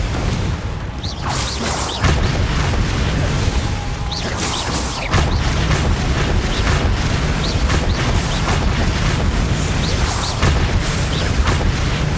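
Confringo, a blasting spell in Hogwarts Legacy, is cast in combat amid a barrage of repeated bursts, booms and crashes that keep coming for about twelve seconds, loud and close, with no talking.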